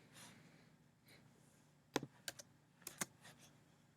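Names typed manually on a computer keyboard: a handful of crisp, close keystrokes in two brief bursts over quiet room tone.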